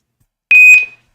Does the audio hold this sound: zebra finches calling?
no